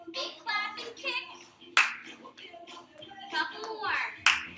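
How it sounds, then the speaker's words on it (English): Two big, sharp hand claps from a chair Zumba Gold exercise class, spaced a few seconds apart and landing over an instructor's steady spoken counting and cues. "Big clap and kick."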